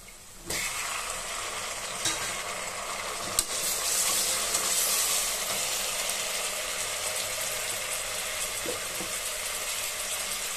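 Onions fry in a pan until golden for country chicken biryani, a steady close hiss and sizzle with occasional stirring scrapes and clicks running throughout, without talk.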